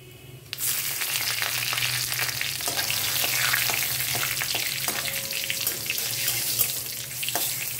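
Cumin, bay leaf and dried red chilli hit hot oil in a kadai, bursting into a loud, broad hiss that stays steady and close for several seconds, dotted with small crackles.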